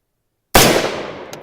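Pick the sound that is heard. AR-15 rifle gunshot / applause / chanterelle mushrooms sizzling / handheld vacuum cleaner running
AR-15 rifle gunshot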